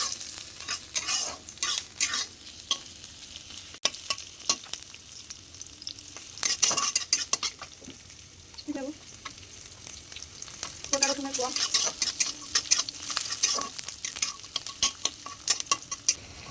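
Dried red chillies fry in a pan for a bhorta, giving a steady soft sizzle with intermittent stirring scrapes and clinks, rising louder in bursts toward the end, with no voices.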